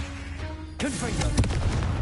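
Hogwarts Legacy's Confringo fire spell detonates with an abrupt booming blast and a sharp secondary crack, leaving a close, rolling rumble that fades slowly.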